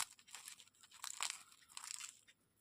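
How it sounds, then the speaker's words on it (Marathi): Crispy masoor dal dosa crunched and broken up close by, a run of sharp dry crackles and crunches in bursts with brief pauses between. "किती कुरकुरीत झालं बघा, हे बघा आवाज येतच."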